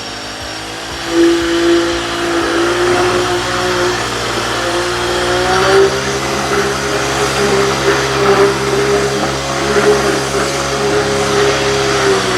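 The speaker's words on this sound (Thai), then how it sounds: "ผมจะเร่งนะเดี๋ยวมา ดูกันว่าถ้าเร่งสูงสุดแล้วนะครับ มันจะเป็นยังไง" Small engine on a backpack concrete vibrator held at full throttle, a steady loud buzzing drone that wavers slightly in pitch as the revs hold high, close by and alone for the whole stretch.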